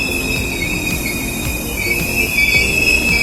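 Train wheels squeal loudly and steadily as an older commuter train runs through Manggarai station in Jakarta, a sustained high metallic screech over rumbling rail noise, close by, with no talking.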